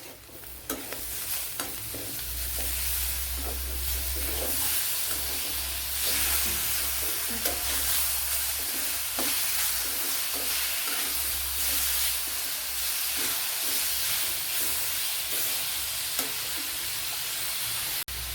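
Onions and tomato fry in a pan for chicken kurma, a steady close sizzle with a spoon stirring and scraping at intervals throughout.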